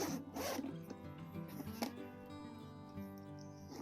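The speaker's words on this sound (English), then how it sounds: "Let's test out the zipper." A close zipper on a leather tote bag rasps open and shut in a few quick pulls, with light rustling of fabric between strokes.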